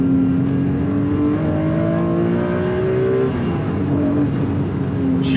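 A 1991 Acura NSX engine climbs steadily in pitch as it revs toward its 8,000 RPM limit, then drops back and rises again, heard loud and close from inside the car with no talk.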